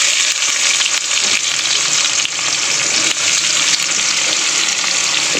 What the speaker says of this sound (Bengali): গরম মশলাটা একটু তেলের মধ্যে লাল হয়ে গেছে, আমি এবারে দিয়ে দেবো কুচানো পেঁয়াজ।